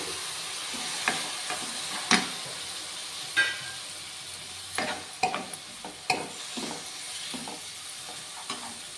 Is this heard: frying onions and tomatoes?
yes